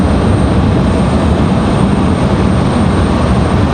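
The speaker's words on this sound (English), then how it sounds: "Delta 2699 off to Minneapolis, that A320. That last departure." Delta Airbus A320 jet departing Raleigh-Durham for Minneapolis, a loud, unbroken engine roar filling the whole moment at close range, no speech.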